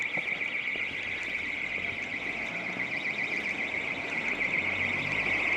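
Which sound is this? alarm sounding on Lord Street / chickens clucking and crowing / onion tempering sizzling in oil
alarm sounding on Lord Street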